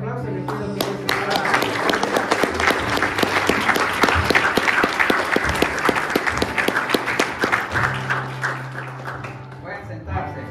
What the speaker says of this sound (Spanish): vamos a darle un fuerte aplauso y le pido que nos aplaude